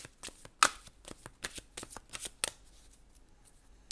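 A deck of cards is shuffled by hand in sharp riffling bursts and soft snaps, several quick flurries close up in a quiet room.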